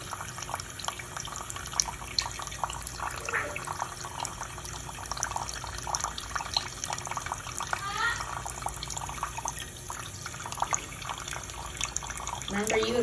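A macaw bathes in a kitchen sink, sending up continuous close splashing and trickling water with tap-like flow, while someone talks warmly to the bird throughout.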